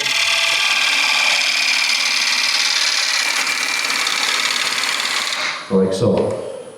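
Wood being turned on a lathe with a gouge, a steady loud hiss of cutting and spinning that runs almost throughout, then a brief lower rumble and change near the end as the cut shifts.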